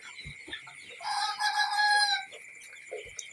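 Chickens cluck and a rooster crows loudly at close range, the long crow sustained in the middle, with scattered clucks and scratchy farmyard noises around it and no talking.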